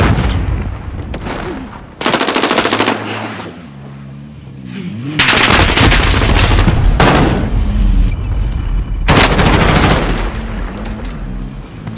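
Loud, sustained automatic gunfire in the Call of Duty Warzone Plunder mode, with long continuous bursts broken by short gaps and heavy booming low end throughout.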